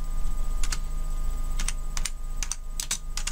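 Keystrokes on a computer keyboard come in several short bursts of rapid clicks, close and clear over a steady low hum, with brief pauses between the bursts.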